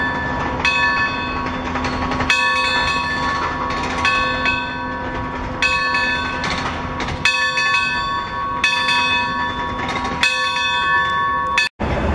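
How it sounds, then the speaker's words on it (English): A locomotive bell on a preserved engine at a transportation museum in Wichita, Kansas, rings in a steady repeated pattern of bright metallic strikes, loud and close, with no talking over it. "even ring the locomotive's bell"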